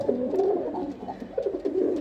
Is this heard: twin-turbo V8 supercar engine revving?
no